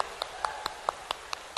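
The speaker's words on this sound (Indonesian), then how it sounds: "Tepuk tangan untuk mereka" Audience applause at a closing business event in Cirebon, heard as a thin, steady patter of hand claps with regular sharper claps standing out about every fifth of a second.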